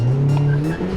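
A turbocharged Mazda MX5 on a skid pan, its tires squealing in a loud sustained skid under a droning engine, close to the car.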